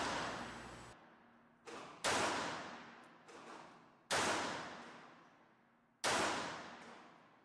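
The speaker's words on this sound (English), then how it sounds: "Here's the last of those test shots at 25 feet." Five loud, sharp pistol shots from a Taurus PT 58 S .380 Auto fired at 25 feet, spaced about a second or two apart, each followed by a long decaying echo with no talking.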